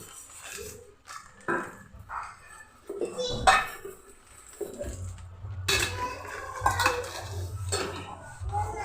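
Metal spoon scraping and clinking against a pan while moong dal is roasted in ghee for halwa, irregular stirring knocks and scrapes, close and fairly quiet, with a low hum beneath.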